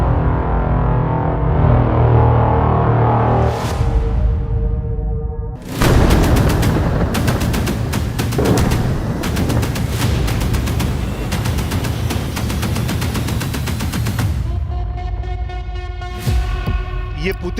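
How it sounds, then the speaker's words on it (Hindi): Heavy bombing by Russian forces in Syria near Aleppo, Idlib and the Damascus highway: a dense, sustained roar of blasts and rumbling booms, with sharp cracking impacts packed together for long stretches, loud and close, without speech. "ये पुतिन की बमबारी है।"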